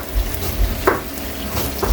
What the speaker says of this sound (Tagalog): buhusan na natin ito Kaili ng mainit na tubig